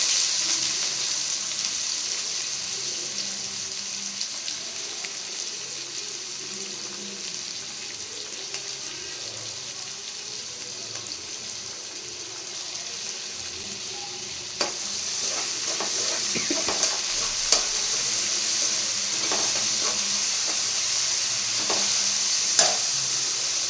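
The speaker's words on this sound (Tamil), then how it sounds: "நல்லா பொரிஞ்சதுக்கு அப்புறமா நம்ம ஆனியன் ஆட் பண்ணிக்கலாம்." Onions frying in hot oil with fennel seeds for a chicken kulambu, a steady close sizzle with scraping stir strokes that grow busier toward the end, no voices.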